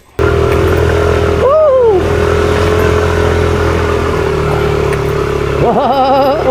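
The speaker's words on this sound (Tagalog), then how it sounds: "Kaya-kaya ng motor natin yan." A motorcycle engine drones steadily and loud at close range through the whole ride, with a brief throttle rise, a whooping shout and a few short voice sounds over it.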